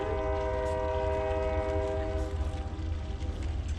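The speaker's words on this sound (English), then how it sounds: "Train's going by." A train rumbles past nearby, steady and loud, with a sustained horn-like tone layered over the low rolling rail noise.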